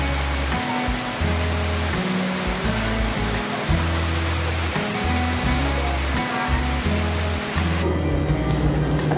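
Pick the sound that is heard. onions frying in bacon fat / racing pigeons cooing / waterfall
waterfall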